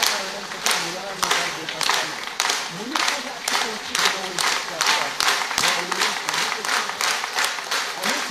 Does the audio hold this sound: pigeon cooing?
no